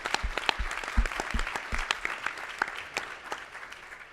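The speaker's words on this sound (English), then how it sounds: "please give some applause to Secretary Caldwell for his leadership" Audience applauding Secretary Caldwell at a clean energy ministerial session on renewable energy, a steady patter of many hands clapping at moderate distance, with a few louder claps near the start and the applause thinning slightly toward the end.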